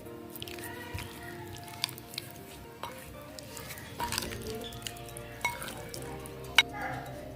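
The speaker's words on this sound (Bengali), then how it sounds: "এবার সমস্ত উপকরণের সঙ্গে চিকেনটি ভালো করে মাখিয়ে নেব।" Raw chicken is worked by hand with spices, lemon juice and refined oil, giving soft, wet squishing and sticky smacks in an irregular rhythm, close and fairly quiet.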